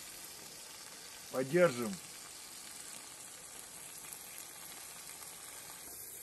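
Assorted meats stew in wine in a sadj pan outdoors in cold winter weather, giving a steady, soft hiss of simmering with a single brief spoken word partway through.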